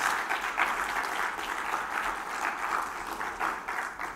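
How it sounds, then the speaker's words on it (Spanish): A church congregation claps continuously in praise during a Spanish-language service, a full, even wash of applause with no voices over it. "Dele palmas al Señor, denle gracias."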